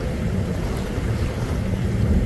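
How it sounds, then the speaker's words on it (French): Steady wind at sea buffets the microphone aboard a sailboat, a loud, continuous low roar with no talking. "On a un petit peu de vent"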